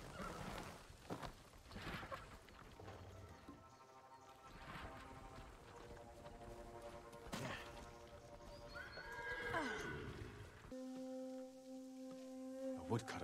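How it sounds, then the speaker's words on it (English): Horses in the video game Ghost of Tsushima whinny loudly several times over clopping hooves, with the neighs rising and falling near the middle and end and constant outdoor ambience underneath. "Follow those horses."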